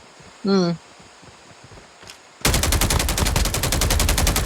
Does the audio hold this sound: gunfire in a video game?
yes